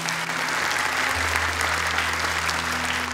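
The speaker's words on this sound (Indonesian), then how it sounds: "Boleh tepuk tangan untuk Abdurrahman dan Salwa." An audience at a Quran memorisation contest applauds two young contestants, a dense, steady wash of clapping throughout with a low musical tone underneath.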